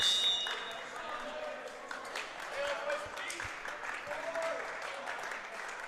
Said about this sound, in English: Stevens bench now with some clapping, trying to get some energy going.